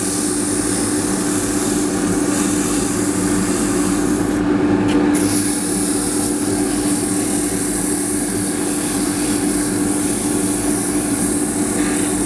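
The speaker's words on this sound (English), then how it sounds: "So that outside can be sanded." A turned wooden pencil pot is sanded on a lathe with 180 grit paper, giving a loud, continuous rubbing hiss over the steady hum of the spinning lathe, with one short break midway.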